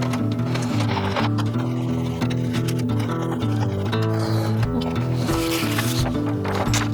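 An Epson ET-8500 inkjet printer runs steadily with a droning mechanical hum and rhythmic clicking as the print head shuttles back and forth, no talking.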